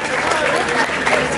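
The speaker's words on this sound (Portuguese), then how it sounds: "Palmas, palmas, palmas, palmas." Crowd at a Brazilian drill and Detroit rap battle clapping and cheering, a loud dense burst of claps mixed with voices and crowd noise over the short stretch.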